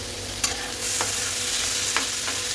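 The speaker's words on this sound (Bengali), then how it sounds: "এবারে আমি একটু ভাজা জিরের গুঁড়ো এর মধ্যে দিয়ে দিলাম দিয়ে নাড়াচাড়া করে" Vegetables stirred in a pan with roasted cumin powder: a close, continuous sizzle with a handful of spaced spatula scrapes across the pan.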